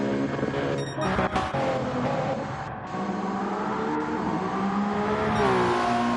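A race car in Gran Turismo 7 holds a loud, sustained high-pitched engine drone at top speed on the Mulsanne Straight at Le Mans, with brief shifts in pitch and no talk.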